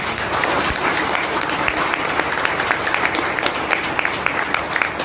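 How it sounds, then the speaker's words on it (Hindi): Sustained applause from a seminar audience, many hands clapping steadily and densely for about five seconds, loud and even throughout with no pause. "एक बार पहले ताली बजा लीजिए आप लोग।"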